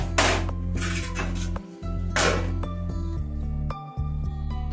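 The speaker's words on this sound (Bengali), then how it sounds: "দেখুন এবারে আমি এটাকে চাপা দিয়ে দিচ্ছি" A lid being set on a pot of chicken curry, with several metallic clinks and ringing clatters close by, each followed by a brief resonant hum.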